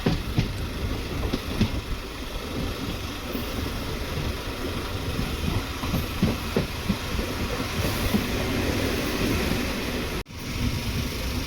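A MEMU commuter train running between Tiruvannamalai and Tambaram during a crossing, giving a steady, loud rolling rumble with rail clatter throughout and a brief sharp dropout near the end.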